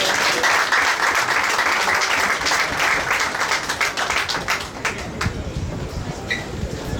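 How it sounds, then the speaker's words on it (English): Audience applause at a book fair literary evening, a dense wash of clapping that carries steadily through and thins slightly toward the end, with a voice briefly audible over it. "Stop clapping like you're tired."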